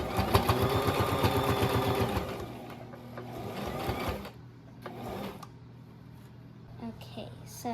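A sewing machine stitching a child's twin-size quilt runs in a fast, steady rhythmic clatter for about four seconds, then stops; a few brief, quieter bursts of stitching follow while someone talks over it.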